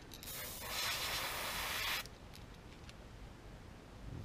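An airbrush sprays paint onto a fishing lure in a perch pattern, around the hook eye, giving a close, steady hiss that lasts about two seconds, then cuts off into quiet with faint handling noises.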